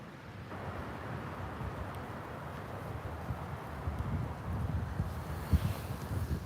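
Wind buffets the microphone in low, rumbling gusts, steady and close, with no voices.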